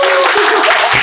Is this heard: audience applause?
yes